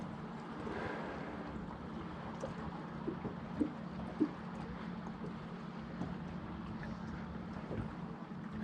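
A boat motor keeps running outdoors at night during bank fishing, a faint, steady low drone with wind noise and a couple of small knocks.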